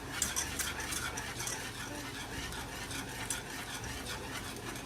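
Butter and brown sugar melt together in a pan while a utensil stirs through the mixture nearby, scraping softly and tapping now and then over a faint sizzle.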